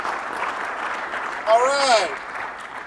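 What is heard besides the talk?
audience applause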